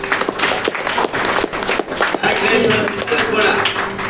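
An audience at a church women's fellowship skit performance claps, a dense burst of applause with some voices mixed in.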